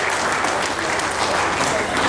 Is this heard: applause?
yes